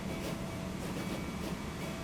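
A train pulls into a station in the video game Transport Fever 2, a steady low rumble of rolling wagons that stays even and fairly faint throughout.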